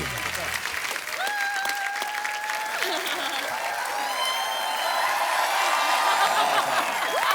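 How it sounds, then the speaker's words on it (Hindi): A studio audience on a TV comedy show applauds steadily, with whoops and scattered laughter over the continuous clapping. Tonal cries and music-like tones rise above the clapping throughout. "जोरदार तालियां जैकलीन और सिद्धार्थ मल्होत्रा के लिए।"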